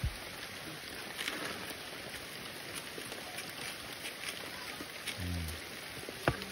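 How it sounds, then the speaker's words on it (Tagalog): A dense, steady hiss of heavy rain pours down continuously during outdoor cooking, with a few faint knocks and a brief low sound near the end. "Lakas talaga ng ulan no."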